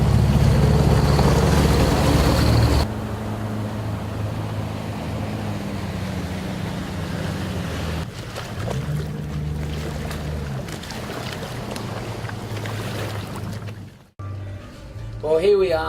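A boat engine drones on a test run after trouble with one of its engines, a close, loud, low steady hum that shifts in level partway through, with rushing water and wind near the end.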